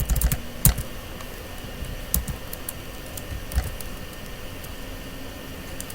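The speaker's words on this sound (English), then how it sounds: "So now here I'm just going to type in system.out.println." Code being typed on a computer keyboard for a Java if-else program, with scattered soft key clicks and a few sharper taps over a faint steady hiss, no voices.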